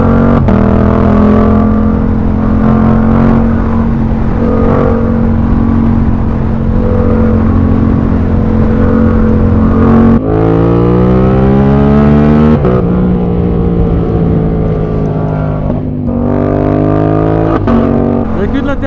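Yamaha R7 sport motorcycle ridden on the road, its engine droning steadily with rising and falling pitch through gear changes, close and loud throughout.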